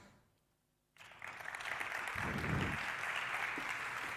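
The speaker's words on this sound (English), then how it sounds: "Let's give her a nice big round of applause." Audience applause breaks out at a conference after a talk, starting abruptly from near silence and continuing as a steady, full wash of clapping from many hands with a brief rise in low rumble partway through.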